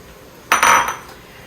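A spoon scrapes and clinks inside a sauce pot as sautéed onions, garlic and pancetta are stirred into Sunday sauce, one short close burst of metallic scraping lasting about half a second, then quiet.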